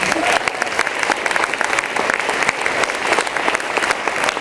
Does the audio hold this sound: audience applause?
yes